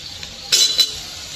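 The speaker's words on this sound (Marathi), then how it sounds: "आता याच्यात शेवग्याची शेंग घालते मी" Drumstick pods dropped into a pan of frying onion and green chili give two quick metallic clinks and clatters against the pan, close and fairly loud, over a quiet background.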